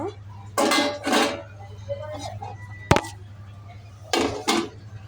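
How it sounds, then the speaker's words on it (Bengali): A metal lid clanks onto a pot of desi chicken curry. It lands in two quick clattering knocks, then one sharp clink and two more later knocks, over a steady low kitchen hum. "ভালো করে এই ঢাকনা দিয়ে ডেকে দিলাম"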